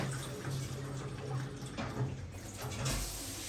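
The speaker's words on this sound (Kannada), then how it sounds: "ಚೂರು ನೀರು ಪಾಡ್ಗ" Water poured into a cooking pot in a home kitchen, a soft steady trickle and splash that runs for a few seconds at a quiet level.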